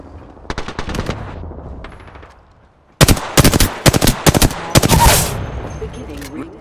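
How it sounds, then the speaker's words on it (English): Automatic gunfire in the Apex Legends video game: a short burst of rapid shots at first, then after a pause several loud, close, sharp volleys in quick succession over faint game sounds. "I'm taking shots"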